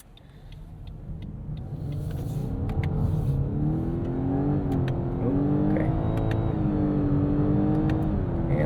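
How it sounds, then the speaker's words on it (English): A 2024 Lexus LS 500h hybrid engine with CVT hums and climbs steadily in pitch, its tone rising and dipping a few times as gears shift in manual mode, heard from inside the car. "Let's put this in manual and we'll actually shift these gears ourselves."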